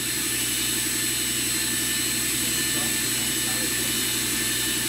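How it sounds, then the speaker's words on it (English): A machine spindle running at 4,000 RPM gives a loud, steady, continuous whine with a constant high tone over broadband mechanical roar, unchanging throughout. "then you can hear the spindle"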